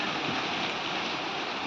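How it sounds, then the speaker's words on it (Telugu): Rain falling during a windy storm in Khammam, a steady, broad wash of hiss that stays even and close throughout, with no voices. "వర్షం పడుతుంది"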